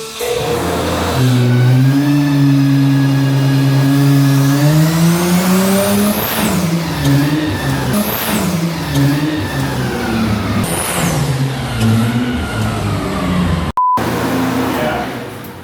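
A 2026 Dodge Charger drift car runs full sweeps on a dyno, its engine climbing through long rising revs, dropping back and revving again, loud and close throughout.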